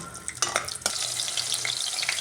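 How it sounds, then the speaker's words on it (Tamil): Steady sizzling of peeled shallots sautéing in hot oil, with a few louder bursts and stirring scrapes early on, no voices. "சின்ன வெங்காயம் உரித்து வச்சுருக்கிறத இதில் போட்டிருக்கேன் இதை கொஞ்சம் முதல்ல வதக்கிடுறேன்"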